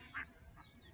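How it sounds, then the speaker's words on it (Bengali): Ducks quacking in a village setting by the water, one short loud quack near the start followed by fainter calls, over a steady outdoor background. "প্যাক প্যাক করতেছে।"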